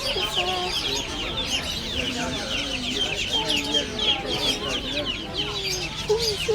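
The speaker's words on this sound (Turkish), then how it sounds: "Böyle tavuklar var. Altta civcivler var." Chickens with chicks at an old Istanbul street stall cluck and peep in a busy chorus, with high chick chirps over lower hen clucks, close by, while people talk alongside.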